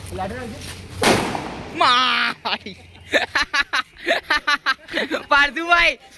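A single sharp mirchi bomb firecracker bang bursts loudly near the start, set off in the hand during Diwali, followed by people talking excitedly.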